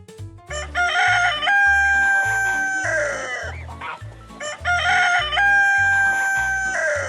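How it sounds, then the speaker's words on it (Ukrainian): A rooster crows loudly twice, each long drawn-out call ringing over a bouncy rhythmic music backing. "Це півень."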